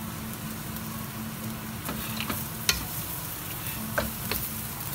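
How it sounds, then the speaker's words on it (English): Beef fried rice made with white jasmine rice is stirred in a frying pan, a steady sizzle running throughout with a few sharp scrapes and clinks of the utensil against the pan. "Now we're gonna have to stir it."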